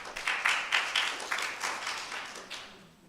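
Scattered applause from a church congregation, a brief burst of claps that starts fairly full and thins out as it fades over a few seconds, heard at moderate distance with no voices over it.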